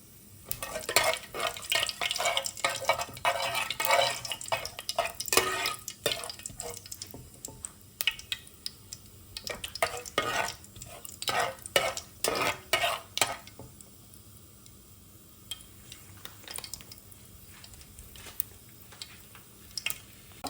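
Spices such as ajwain being stirred in a pan for Nellore-style fish curry, with repeated scraping and clinking of a spoon against the pan over a soft sizzle, in irregular bursts throughout.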